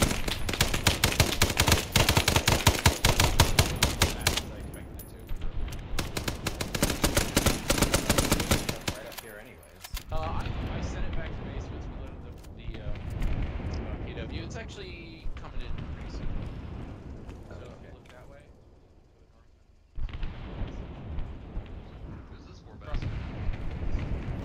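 ArmA 3 combat erupts in dense, loud bursts of automatic gunfire and heavy artillery booms, rapid cracks stacking into sustained barrages broken by brief lulls and later renewed volleys, with voices talking over parts of it.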